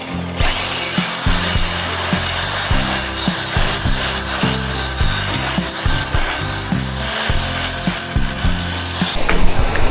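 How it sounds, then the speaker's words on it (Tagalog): A power drill bores into a wooden bedroom cabinet with steady grinding and rasping against the wood, loud and close. The buzz runs almost without a break for about ten seconds, and no one talks. "Birahin na natin to ng barena."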